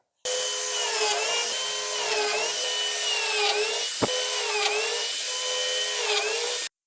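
A biscuit joiner cuts slots into a wooden board for biscuit joints while building an interactive touch table, a loud, steady high-pitched whine that holds for about six seconds with slight pitch dips as the blade bites.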